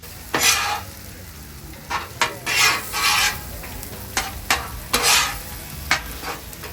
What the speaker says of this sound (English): We're going to just mix all that up right there on top of the griddle until the eggs are cooked all the way through